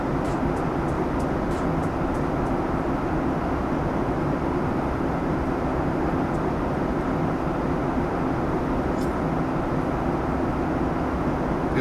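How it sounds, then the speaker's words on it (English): Steady, even cockpit hum of a Boeing 737 MAX 8 airliner simulated by the iFly add-on in Microsoft Flight Simulator 2024, a constant loud broadband drone with faint clicks early on and no talking. "it literally sounds like we're on a real airplane"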